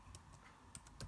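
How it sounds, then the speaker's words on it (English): Typing on a computer keyboard with one hand while working in an Excel spreadsheet: a few separate, unhurried key clicks sounding close and quiet, with no talking over them. "I'm typing with one hand,"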